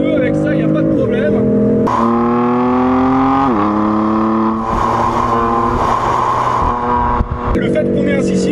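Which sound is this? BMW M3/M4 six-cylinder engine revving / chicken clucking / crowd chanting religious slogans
BMW M3/M4 six-cylinder engine revving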